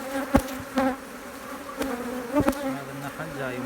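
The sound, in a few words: honeybees buzzing at an opened beehive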